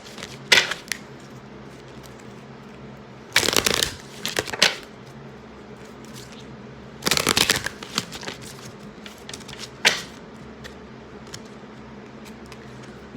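Tarot cards shuffled close by in short, crisp bursts, with two longer riffling flurries and several quick snaps against a quiet background, no one speaking.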